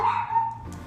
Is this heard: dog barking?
yes